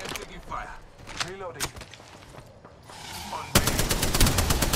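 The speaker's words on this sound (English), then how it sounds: "They're shooting at me." Bursts of automatic weapon fire in the Apex Legends battle royale game, sharp cracks and rattling volleys against a busy backdrop, with a heavy sustained barrage near the end.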